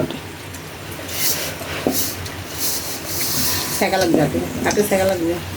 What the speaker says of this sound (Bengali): এইভাবে সেমাই ভাজেন হাত দিয়ে নাড়াচাড়া করে